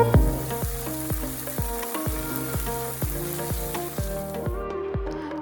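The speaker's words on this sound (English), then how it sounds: "Fry all the sliced ingredients for a minute or 2." Sliced chili sambal ingredients fry in a pan with a loud, even sizzle, punctuated by a regular series of sharp metallic taps and scrapes from stirring.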